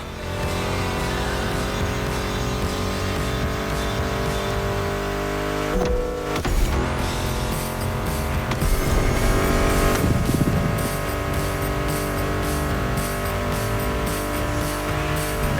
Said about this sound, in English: Meshes well with the sound of the engines